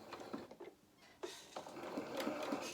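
A sewing machine stitches around a curved edge of a doll's shirt in short bursts, with brief stops and mechanical clicks between runs as the presser foot is lifted to pivot, close and fairly quiet.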